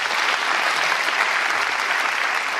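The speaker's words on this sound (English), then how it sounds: "now when you hear the people applaud" Steady, dense applause from a large crowd, loud and continuous throughout with no voices standing out.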